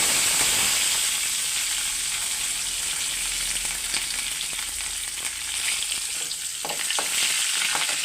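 Onions and chilies sizzle and crackle loudly in hot oil, a bright continuous hiss with scattered pops and some stirring, close up and without talk.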